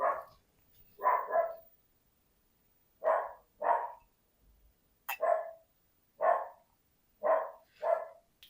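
A terrier barks in short sharp bursts, single and double yaps spaced over several seconds with quiet gaps between, moderately close in an indoor art studio.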